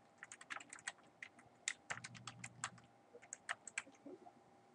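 Login credentials are typed on a computer keyboard in quick irregular bursts of close, crisp key clicks with brief pauses.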